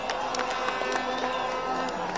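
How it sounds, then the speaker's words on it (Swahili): A crowd at an outdoor launch of a road project in Kamandura, Kiambu County, cheers and applauds for the President, a dense, steady wash of clapping with shouts and whoops rising through it. "Tumshangilie Mheshimiwa Rais kwa makofi."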